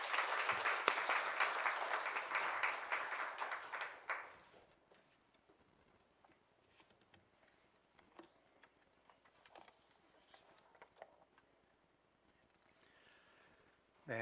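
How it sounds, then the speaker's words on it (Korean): A church congregation welcomes a missionary with a burst of many hands clapping that lasts about four seconds and stops abruptly, followed by a quiet room with scattered faint knocks and footsteps. "우리 선교사님 나오실 때 귀한 은혜 받으시길 바라고 박수로 환영하도록 하겠습니다."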